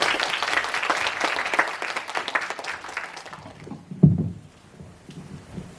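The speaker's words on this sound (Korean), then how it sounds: "큰 박수로 맞이해 주시기 바랍니다." An audience at a fantasy synopsis creation presentation welcomes a speaker with dense, loud applause that fades out after about three seconds. A dull thump follows, then quiet room noise.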